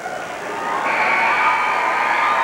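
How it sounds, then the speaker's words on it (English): High school basketball crowds cheer after a championship final, a steady, loud roar of many voices that swells slightly and holds without a break. "Two very active crowds."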